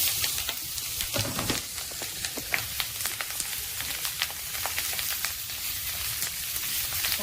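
Lemon pieces and green chillies drop into hot oil with asafoetida and turmeric for a lemon, chilli and bitter gourd pickle, giving a steady, loud, close sizzle that crackles throughout with small pops.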